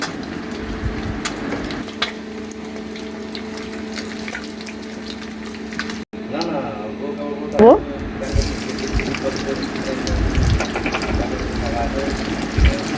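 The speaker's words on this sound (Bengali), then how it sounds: "বেরেস্তাটা ভালো করে নাড়াচাড়া করে" Sliced onions frying in oil in a pan for egg korma, a steady sizzle and hiss with occasional scraping as they are stirred, and brief talk in the middle.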